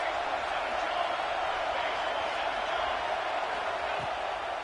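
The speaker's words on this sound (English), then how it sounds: "This crowd trying to make life miserable for this offense." A stadium crowd in the College Football 26 video game, at a Wisconsin versus Iowa matchup, roars as a dense, steady wash of cheering and noise that holds at constant loudness throughout.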